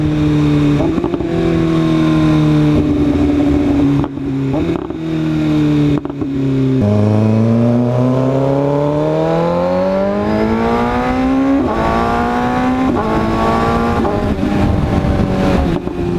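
A car with a loud aftermarket exhaust, heard up close and continuously, rumbles deeply at low RPM, then climbs in pitch as it revs higher, with brief dips between pulls.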